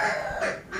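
A rooster clucks and calls up close, a loud, brief burst of throaty fowl sounds on a backyard poultry setup, with no talk over it.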